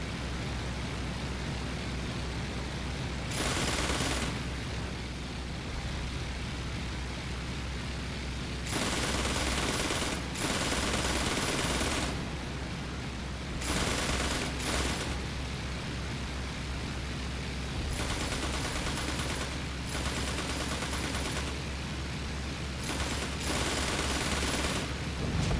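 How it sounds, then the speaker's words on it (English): Machine guns on World War I era aircraft fire in long rattling bursts during a Flying Circus multiplayer air-combat sortie, alternating with steady engine drone and wind noise. "Machine guns firing."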